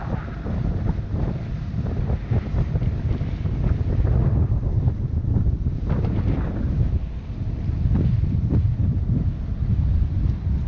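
Steady wind buffets the microphone on a boat in a canal, with a constant low rumble and gusty roar that swells and eases throughout.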